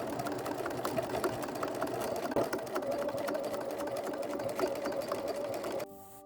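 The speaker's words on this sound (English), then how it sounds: "stitch away from the raw edges on the top and bottom of those channels 3/8 of an inch" Sewing machine stitching boning channels on a gothic ballgown, a fast even run of needle clatter with a steady motor hum, fairly close, ending suddenly in quiet.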